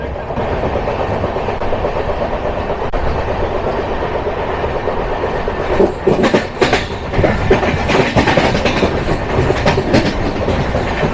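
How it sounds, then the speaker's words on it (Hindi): A Coimbatore–Hisar AC Express train passes on the adjacent track, its steady rolling roar and clickety-clack wheel beats loud and close, swelling further in the final seconds, with no talking. "अभी आपने जिस ट्रेन की क्रॉसिंग देखी ये थी कोयम्बतूर हिसार AC एक्सप्रेस।"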